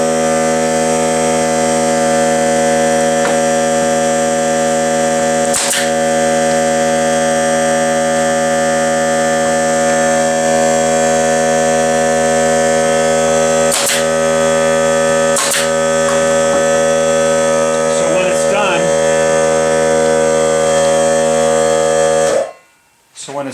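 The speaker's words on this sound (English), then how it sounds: "I forgot to turn off the air compressor" An air compressor left running in a beehive-frame assembly workshop drones steadily and loudly for nearly the whole stretch, with a few brief clicks and knocks, then cuts out abruptly near the end.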